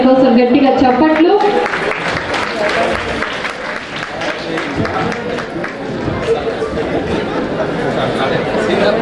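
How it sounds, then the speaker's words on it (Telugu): An audience at a celebration event claps loudly and steadily, a dense burst of applause that swells right after a speaker's voice and holds for several seconds amid crowd chatter. "మరొకసారి ఆయన కోసం గట్టిగా చప్పట్లు."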